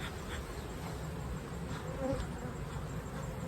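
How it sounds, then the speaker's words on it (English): Dense, steady hum of many honeybees buzzing inside an opened hive, a continuous close drone with no talk. "There's a ton of bees in here, I know that."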